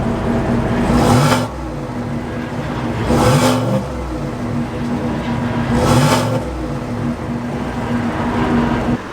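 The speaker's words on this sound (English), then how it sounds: "that's pretty much what the truck would sound like" A 2024 GMC Sierra Denali Ultimate 6.2L pickup engine and exhaust rumble steadily at idle, rising into three evenly spaced revs that swell and fall back, loud and close with no talking.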